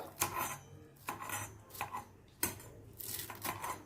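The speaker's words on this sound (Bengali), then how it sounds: "প্রথমে ধনে পাতাগুলোকে একটু কুচিয়ে নেবো" Fresh coriander leaves chopped with a knife, heard as a series of close, rapid rasping chops in short bursts with brief pauses between them.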